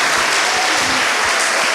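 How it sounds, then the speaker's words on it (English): Loud applause from an audience at a Gambian kids' show, clapping for the mentors, dense and continuous with faint voices underneath. "Please clap for the mentors."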